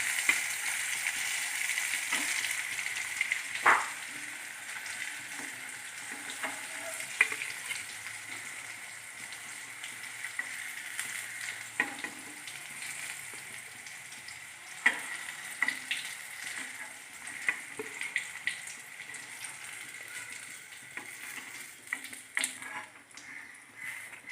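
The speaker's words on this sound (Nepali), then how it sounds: "यो करेला एक साइडमा राम्रोसँग पाक्न दिने" Spiced bitter gourd slices fry in a pan with a steady, close crackling sizzle, broken by occasional sharper pops and clinks, with no voices.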